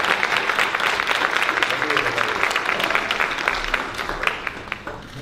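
An audience at a health services executives' gathering breaks into sustained applause as the mayor is welcomed, a dense wash of clapping from a sizable crowd that slowly tapers off toward the end.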